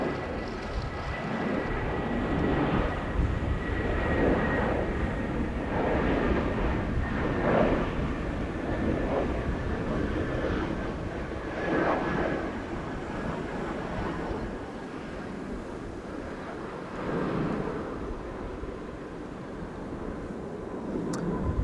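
A 25-year-old airliner, first flown in April 2000, arriving at Schiphol Airport from Split, Croatia, a loud, steady engine roar swelling and fading in broad waves as it passes, no voices.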